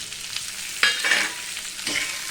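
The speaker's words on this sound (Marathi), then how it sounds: "याला चांगलं लालसर होईपर्यंत आपल्याला परतून घ्यायचं आहे" A masala, with tomato to go in later, being sautéed in a pan for aloo matar bhaji: a steady sizzle runs throughout, with two louder scraping stirs in the middle and toward the end, and no voices.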